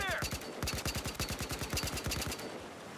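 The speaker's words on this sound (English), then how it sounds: "Give him the warning shots." Automatic gunfire cracks out as warning shots in Battlefield Hardline multiplayer. A rapid, even burst of about twenty shots runs for over two seconds, then stops, with a brief game sound at the start.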